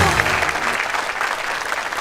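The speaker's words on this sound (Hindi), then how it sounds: "जोरदार तालियां रेखा जी के लिए।" A studio audience on a comedy talk show breaks into loud, dense clapping that holds steady throughout, close and full with no voices on top.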